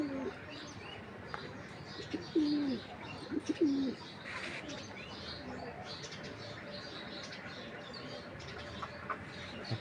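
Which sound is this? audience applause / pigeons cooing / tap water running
pigeons cooing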